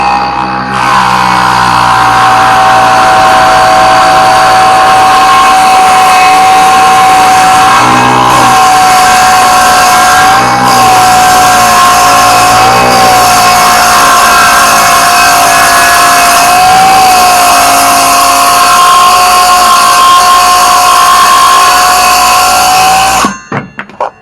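A Bauer 6-1/2 inch circular saw runs loud and close, its steady high whine holding through the cut with slight dips in pitch before cutting off abruptly at the end.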